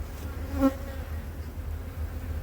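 Honeybees at an open hive frame with brood, a close, steady buzzing hum with one bee droning briefly louder as it passes near.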